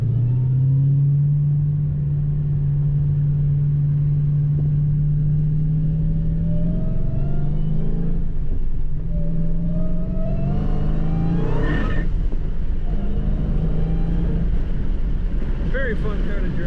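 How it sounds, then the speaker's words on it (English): A 2016 Dodge Challenger SRT Hellcat idles with a deep, steady exhaust rumble heard from inside the car with the window down, then revs briefly a few times, with wind noise over the microphone. "Maybe I'll put the window down and let you hear the exhaust a little bit."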